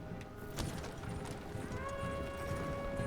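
Horse hooves clip-clopping in the Red Dead Redemption 2 video game, a faint rhythmic trot under a low ambient game soundscape, with a brief sharp knock near the start and rising tonal music toward the end.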